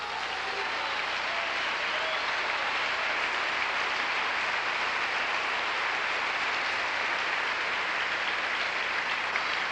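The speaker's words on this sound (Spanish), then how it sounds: "Le damos un aplauso al Señor" A church congregation applauds together, a broad, continuous wash of many clapping hands that stays steady and fairly distant for the whole stretch, with no break or swell.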